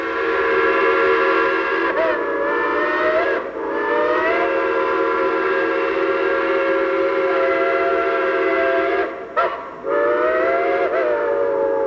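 An O gauge model train on a layout sounds a long, steady steam-style whistle in sustained blasts with a few brief breaks, loud and close, running nearly twelve seconds alone.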